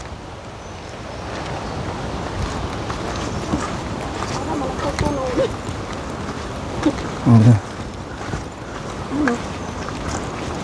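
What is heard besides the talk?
river current flowing like a waterfall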